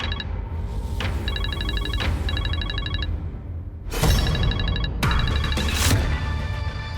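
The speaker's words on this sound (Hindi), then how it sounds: "फोन उठा लो। इतनी रात को किसका फोन है?" A telephone rings late at night with a repeating electronic ringtone, bursts of trilling tones that return in steady cycles at moderate volume, with no one talking.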